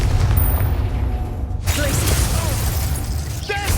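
Confringo fire blast spell in Hogwarts Legacy: a loud, dense burst of roaring noise with crackling and gliding magical tones amid combat effects.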